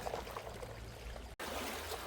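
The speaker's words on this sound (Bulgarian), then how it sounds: "Наложи се малко да нагазя и във вода" Feet wade through sea water along a rocky shore on Koh Samui at low tide, a continuous close splashing and trickling wash with a brief cut midway and no voices.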